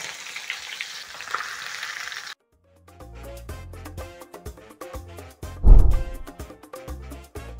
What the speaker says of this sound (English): So I'm going to check on my fish fillet and flip.